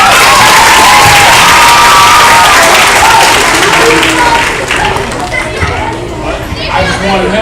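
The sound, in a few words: audience applause and cheering for a guest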